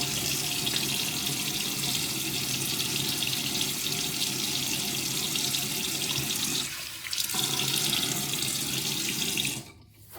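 A bathroom tap runs steadily while water is splashed onto a face before a shave, a loud continuous rush that dips briefly partway through and cuts off near the end.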